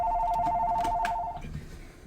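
Phone rings with a steady two-tone electronic trill, loud and close, cutting off partway through and leaving faint room noise behind.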